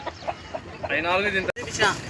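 Roosters at a Sunday hen market in Pileru, with clucking and a drawn-out crow rising over crowd chatter and nearby talk.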